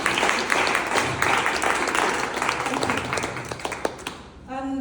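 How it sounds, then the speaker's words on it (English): A room full of people claps a round of applause at a launch event, dense and steady for several seconds before tapering off, with a voice rising at the very end. "Round of applause."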